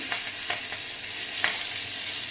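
Two green chillies hit hot oil for a rui fish curry, setting off a steady, close hiss of frying with a few small crackles and pops over the continuous sizzle.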